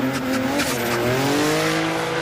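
A Nissan Fairlady Z Z34 drift car at a Formula Drift Japan 2024 event roars at full throttle, its loud, strained engine note wavering in pitch over squealing tires.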